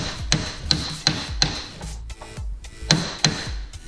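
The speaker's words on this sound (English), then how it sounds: "once you get flush, you'll need to bring out your other hammer." Sharp metallic hammer blows knocking a Honda front torsion bar, striking in an uneven series, each ringing briefly, with scraping and shuffling between hits at close range.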